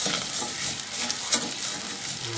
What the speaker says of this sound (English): now I'm going to add my wild rice to a little bit of olive oil